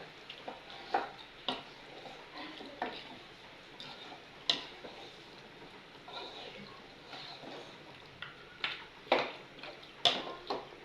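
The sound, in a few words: stirring and frying meat in a pan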